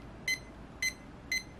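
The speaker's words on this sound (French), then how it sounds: "Parce qu'encore le bip quand vous cliquez," Three short, high electronic beeps from a first-generation Tamagotchi sound at an even pace as buttons are clicked, each a quick chirp over quiet background hiss.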